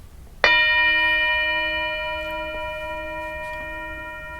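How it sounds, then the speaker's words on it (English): A meditation bell is struck once and its bright, clear tone rings on, slowly fading over several seconds in a quiet room. "So I'm going to ring the bell. I'm going to ask you to listen carefully."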